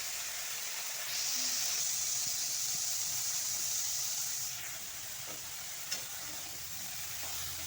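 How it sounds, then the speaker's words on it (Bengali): Broccoli frying lightly in oil over low heat, a faint hiss that swells for a few seconds and then eases, with one small clink near the end and no voices. "একদম হালকাভাবে ভেজে নেব। তোমরা চাইলে সরষের তেলেও ভাজতে পারো, আবার সাদা তেলেও ভাজতে পারো।"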